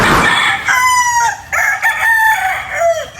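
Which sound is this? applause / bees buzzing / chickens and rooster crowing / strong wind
chickens and rooster crowing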